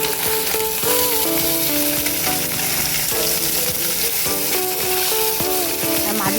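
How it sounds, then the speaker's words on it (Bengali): Morla fish frying in hot oil for a sour mango curry, a steady loud sizzle with occasional clinks and stirring noises throughout, no talking. "দেখো মাছগুলো ভাজা হয়ে যাচ্ছে"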